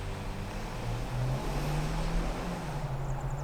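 A 2026 GMC Terrain AT4 compact SUV launches hard from a standstill, its engine a steady low drone that rises slowly in pitch as it gains speed, heard from inside the cabin with no talk.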